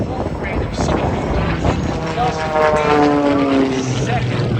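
An Edge 540 aerobatic airplane's propeller engine drones steadily at an airshow, its pitch shifting as it maneuvers, with heavy wind noise and an announcer talking over it.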